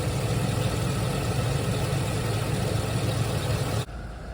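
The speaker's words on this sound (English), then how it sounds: "Here's a good listen for the engine." A 2016 Chevrolet Express 4500 16-foot box truck idles with a steady, loud, low engine rumble heard up close, then cuts off sharply near the end, leaving a quieter hum.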